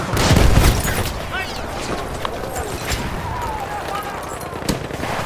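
Battlefield 1 Lewis Gun machine gun fires in dense, rattling bursts amid a loud battlefield din of other gunfire and booms, sustained across the whole stretch.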